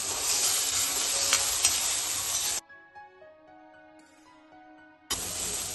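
Shredded cabbage fries in a pan for homemade noodles, a dense close sizzle with stirring that stops for a stretch of soft music and then returns just as loud.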